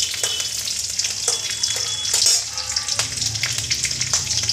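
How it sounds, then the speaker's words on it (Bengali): Oil sizzles steadily and loudly up close in a pan with tender radish greens, black cumin and green chili, a dense continuous frying hiss with faint scraping taps and no talk. "তেল ফুটছে।"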